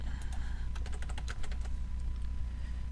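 Computer keyboard keys are pressed in a quick irregular burst of clicks during Kerbal Space Program play, close up over a low steady hum, then the typing stops.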